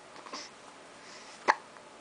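A single sharp hiccup sounds up close, loud and abrupt, after a stretch of quiet room tone with a few faint soft noises.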